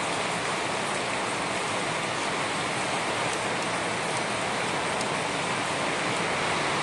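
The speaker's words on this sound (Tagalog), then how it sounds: "Thank you Lord sa ulan." Steady, heavy rain pours down in a dense, unbroken hiss that fills the whole time, loud and close with no pauses or voices.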